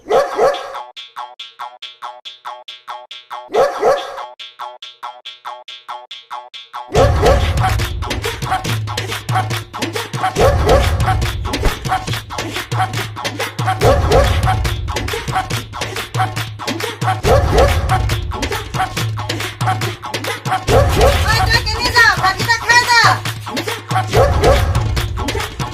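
A dog barking repeatedly, mixed with background music and sound effects in a film scene, with loud, busy, continuous sound after a quieter opening.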